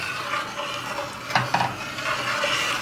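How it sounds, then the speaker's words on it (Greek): A spoon stirs baklava syrup of sugar, orange, cinnamon and cloves in a pot, giving soft scraping with a couple of brief clinks against the metal, close and alone. "Το σιρόπι το ανακατεύουμε τώρα στην αρχή."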